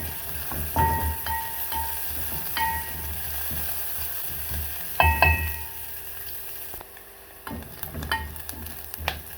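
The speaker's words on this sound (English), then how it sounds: "cooking our onion until it is golden brown, as you can see, and a little bit of olive oil" Onion frying in a little olive oil, a steady sizzle throughout with occasional clinks and scrapes of a utensil against the pan, close and moderately loud.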